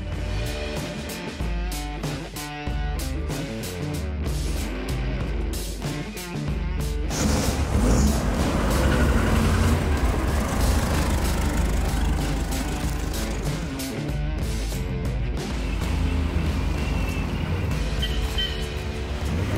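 Rat rod car with an engine rumbling and driving off for a ride, a loud continuous mechanical roar that swells as it pulls away, steady throughout with no talking.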